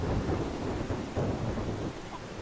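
In the video game Solarpunk, steady rain hisses alongside a dense, continuous low rumble of thunder, forming a full, close wash of storm sound with no voices.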